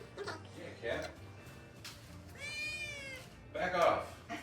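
A cat meows in a drawn-out, rising-and-falling call near the middle, with a louder second cry at the end, while people talk around it in a lively home.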